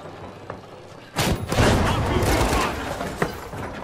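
Gunfire in the video game The Finals: a dense, loud burst of overlapping shots and impacts erupting after a quiet second and sustained to the end, with a sharp crack near the close.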